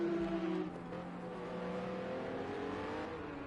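Several race cars in a PS4 racing game at Silverstone roar across the finish line in a sprint race, their engines whining and droning together at steady, fairly loud volume with no one talking.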